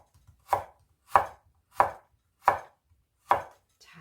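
A knife slices through a carrot on a cutting board into 0.2 cm pieces, with five crisp, evenly spaced chops close up and quiet between strokes.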